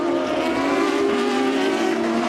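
World Series by Renault race car passing the pits, a steady loud engine drone with a strong sustained tone throughout, no voices.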